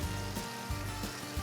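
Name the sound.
burger patties and bacon sizzling in pork fat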